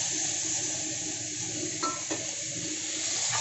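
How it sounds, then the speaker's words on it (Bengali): Jujube plums, dates and tomatoes are tipped into a hot oil tempering with a pinch of turmeric, giving a steady close sizzle broken by two soft clunks of fruit hitting the pan. "কুল, খেজুর আর টমেটো সব একসাথেই দিয়ে দিলাম"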